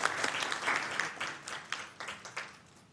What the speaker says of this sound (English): a round of applause for Sean Rooney and his work